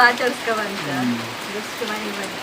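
Steady rain patters in the background while people talk over it near Trasi beach, the voices more prominent than the rainfall.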